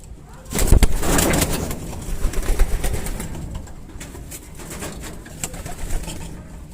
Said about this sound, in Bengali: এগুলো সে আরশাদ পায়রা